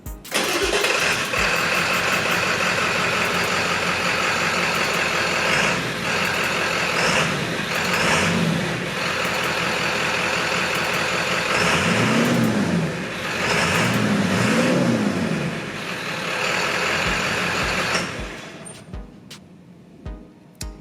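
A Ford 7.3L Powerstroke diesel truck engine with its mufflers still intact runs loud and close, a steady rumbling drone with rising and falling revs before winding down to quiet.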